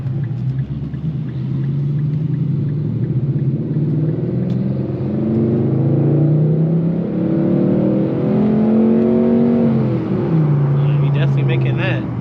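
An Infiniti M56 car driving and gently accelerating, its engine a steady close rumble with rising and falling revs, while a person talks over it.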